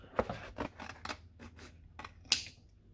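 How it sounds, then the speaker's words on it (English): Scissors cut through cardboard in quick, crisp snips, about eight short clipped cuts at close range, for a crochet Halloween project. "I am then going to cut this out."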